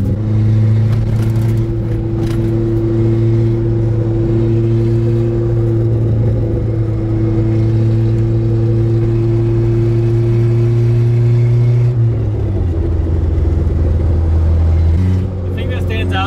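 A lowered, lightweight Toyota Corolla drives along backroads, its engine droning in a steady loud low hum that shifts pitch near the end as the revs change, heard from inside the cabin.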